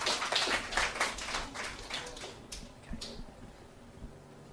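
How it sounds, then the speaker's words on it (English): Audience applause at a poetry club open-mic night for a poet coming up to the microphone, dense clapping from a crowd that fades and thins out over a few seconds. "And give him some applause as he gets here."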